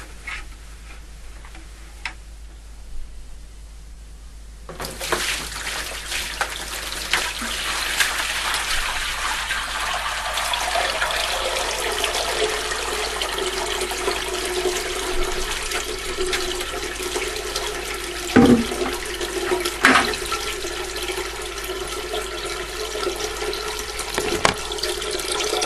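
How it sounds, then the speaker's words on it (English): Water from a fish room drains into a collection bin, starting as faint trickles before swelling into a steady, close rushing flow, with a few sharp knocks and splashes along the way. "That, my friends, is the sound of an automatic water change."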